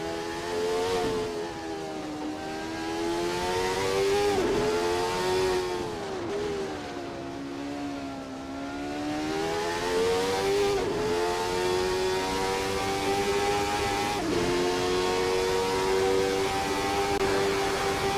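Jordan 191 Formula One car engine at Spa in a racing video game, a loud continuous high-revving roar with harmonics that rise and fall through gear changes and throttle lifts, heard alone without any audible crowd.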